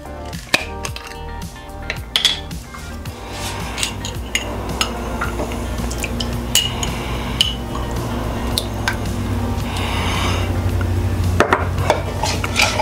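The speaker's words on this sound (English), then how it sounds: "So let me just give this a nice mix." Yellow hot pepper sauce being stirred into a Peruvian chicken dish, with steady scraping, clinking and wet squishing of a utensil against the bowl or pan, close and continuous.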